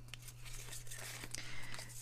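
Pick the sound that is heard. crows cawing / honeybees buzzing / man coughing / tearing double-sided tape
tearing double-sided tape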